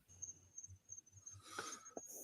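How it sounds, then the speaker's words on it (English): Crickets chirp in a faint, steady high trill that runs through the quiet background, with a few soft low thumps and a brief louder rustle near the end. "You hear the crickets again."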